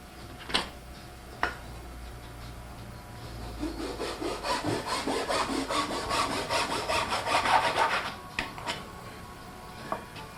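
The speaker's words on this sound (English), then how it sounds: "now he's sanding them and making sure they fit perfect before he glues them in." Rhythmic back-and-forth rasping of sandpaper on wooden guitar braces, building in a quick series of strokes, with a few sharp knocks before and after.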